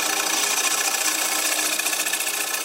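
A wood lathe spinning at speed while the side of a gouge takes small cuts from a tea light holder, giving a steady, continuous high hiss and scrape that stays even and close throughout with no talking.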